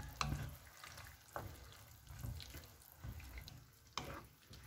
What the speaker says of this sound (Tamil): இது இப்போ பாயில் பண்ணது பாருங்கள், பாயில் பண்ண ஸ்டார்ட் பண்ணியிருக்கு